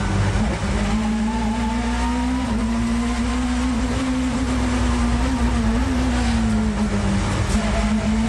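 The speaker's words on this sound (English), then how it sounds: "We're riding with Will Hoy on one of the most spectacular tracks in Britain" Onboard a 1990s touring car racing behind two Hondas on a twisting British circuit, the engine droning loud and close, its pitch rising and dipping through the corners without a break.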